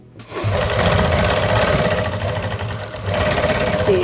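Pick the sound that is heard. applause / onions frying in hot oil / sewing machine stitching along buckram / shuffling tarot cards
sewing machine stitching along buckram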